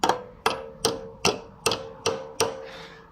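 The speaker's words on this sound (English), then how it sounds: "we're going to grab a hammer and we're going to smack it" Seven evenly spaced, sharp metallic taps from a hammer striking valve spring retainers on a C5 Corvette engine to release the valve locks, each leaving a brief ringing tone, close and clear with no talking.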